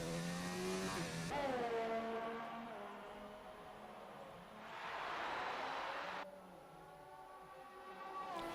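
A race car laps the Japan track through 130R and the final turns in an Xbox racing game, its engine revving high and shifting through gears, rising and falling steadily with a brief tire-squeal wash mid-lap.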